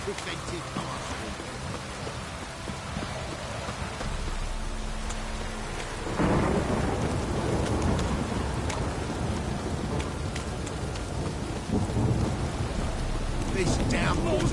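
Heavy rain pours steadily while thunder rumbles deep and loud, swelling partway through and staying strong to the end.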